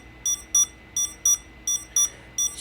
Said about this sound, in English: So the drone is doing its alternative beeping like it does when it's doing an update.